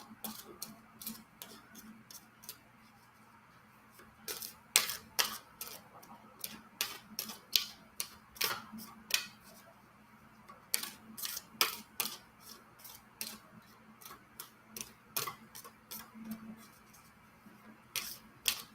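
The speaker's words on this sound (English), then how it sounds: "I'm going to go ahead and season the deck by just shuffling it while we're waiting." A tarot deck is shuffled by hand at close range, giving a quiet run of irregular crisp card flicks and riffles that continue steadily with no voices.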